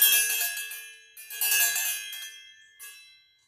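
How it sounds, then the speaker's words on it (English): An ocean bell rings out bright and metallic, struck three times with each shimmering tone decaying slowly before the next strike, heard alone without talk. "I'm going to go ahead and clear out the energy with the ocean bell."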